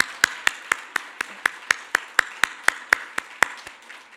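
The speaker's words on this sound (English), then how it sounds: "big round of applause for Shell again." Clapping from an event audience after a talk on cat FIV infection: sharp, evenly spaced claps at a quick, steady rhythm for about four seconds, fairly close, with no talking over them.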